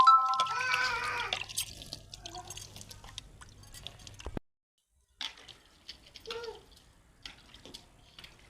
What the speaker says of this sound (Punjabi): ਪਾਣੀ ਅਸੀਂ ਛਿੜਕ ਦਿੱਤਾ ਜੀ।